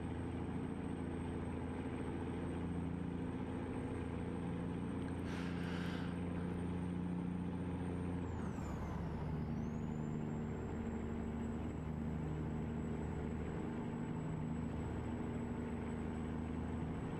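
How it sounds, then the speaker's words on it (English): An American truck with a check engine light running rough. Its turbo whistles as a steady high whine over a droning engine, dropping and sweeping back up once partway through. No voices. "I love this turbo noise."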